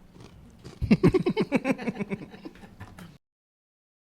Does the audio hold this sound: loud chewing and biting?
yes